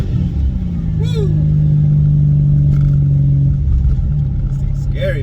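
A supercharged car with a ported supercharger and 105mm throttle body pulls hard in third gear, its engine droning loud and steady with a rising, strained tone close by.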